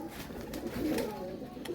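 A Golden Ferozpuri cross pigeon gives a soft, low cooing phrase that swells and fades, close by and fairly quiet against faint background noise.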